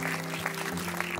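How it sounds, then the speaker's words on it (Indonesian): Applause from a premiere-night audience at the gala for the film Sekawan Limo, a brief, moderate burst of clapping over a steady hum in the hall. "Tepuk tangan dong."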